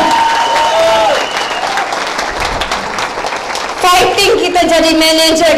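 A crowd claps steadily under music and voices, with the applause swelling louder near the end.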